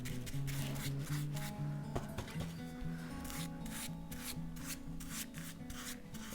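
A paintbrush works varnish into stone-effect cement on a decorative lounge piece, giving a steady close scrubbing and rubbing with repeated short strokes throughout.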